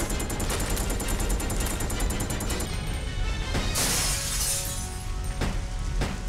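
Loud gunshots and shattering impacts from the survival horror game Resident Evil: Code Veronica X, a rapid string of shots and crashes over a dense, constant game soundtrack, with several sharp bursts near the end.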